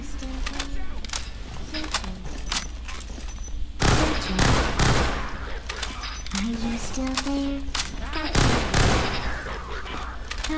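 Shotgun blasts in the first-person shooter Entropy: Zero 2, with several loud broadband bangs amid ongoing battle noise, scattered game sounds and a talking voice throughout.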